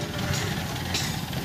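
A generator runs at a busy tractor spare-parts market in Patiala, giving a steady idling engine drone with a knocking, vibrating quality, moderately loud and continuous, with faint crowd noise in the background.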